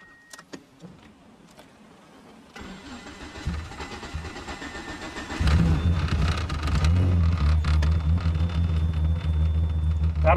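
A DSM car with a LinkECU tune, 288 cams and 2000 cc injectors starts up from inside the cabin: a quiet lead-in with small clicks, then the engine cranks and catches, settling into a loud, steady, rumbling idle with no talk.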